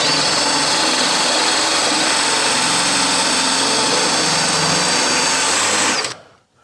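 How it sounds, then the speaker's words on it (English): A high-pitched power drill whines continuously at close range, drilling out spot welds on a car body, steady and loud for several seconds before spinning down and stopping. "This stuff is time consuming when you're trying to drill spot welds."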